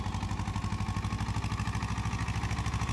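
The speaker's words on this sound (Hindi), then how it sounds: "सोनालिका बागवान DI-30 आगस है, 30 HP का ट्रैक्टर है।" Close by, the diesel engine of a Sonalika Baagvan DI-30 tractor, rated 30 HP and three years old, pounds out a loud, regular, rapid knock with a harsh metallic rattle, with no one speaking.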